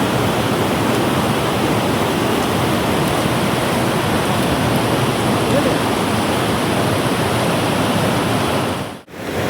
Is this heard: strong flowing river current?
yes